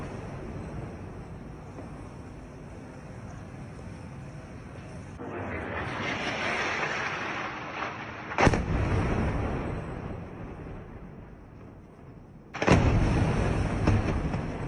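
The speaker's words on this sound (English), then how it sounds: "We see more explosions from the Israeli Air Force further on in the background." Distant Israeli Air Force strikes rumble over Gaza City, a low sustained roar swelling mid-clip and punctuated by two sharp, loud blasts.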